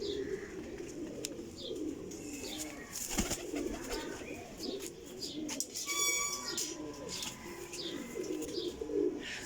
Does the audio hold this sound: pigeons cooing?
yes